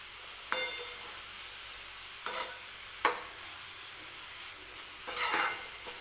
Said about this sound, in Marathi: छान अशी मिक्स करून घ्यायची आहे भाजी